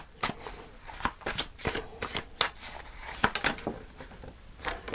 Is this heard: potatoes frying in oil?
no